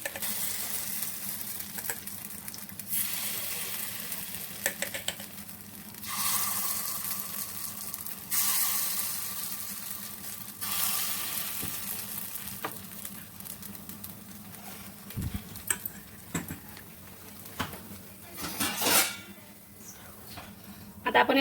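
Appe batter is spooned into a hot appe pan and fries with a continuous sizzle, broken by metal clinks and scrapes of the spoon against the pan, and a voice speaks at times over the cooking.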